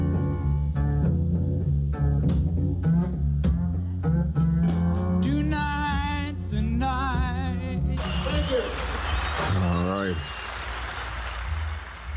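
A song playing on 1970s FM radio: a band with steady piano chords and a rhythmic pulse, then vocal lines and thicker, noisier instrumentation toward the end, continuous and full.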